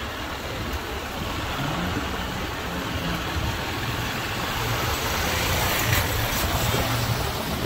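A motorcycle engine runs steadily on a street by a park and bus terminal in Santa Lucía Cotzumalguapa, Escuintla, a continuous near rumble with wind and traffic noise throughout.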